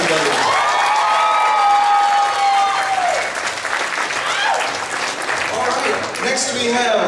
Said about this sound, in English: Big round of applause for Midna, everybody.